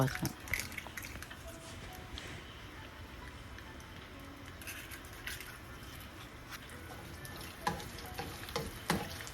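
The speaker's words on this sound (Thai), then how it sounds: "คั่วไข่ให้มันสุกให้มันเป็นตอนก่อนพวกเจ้า" Eggs stir-fried in a pan, a continuous close sizzle with scraping and clinking of the utensil against the pan, while a person talks over it.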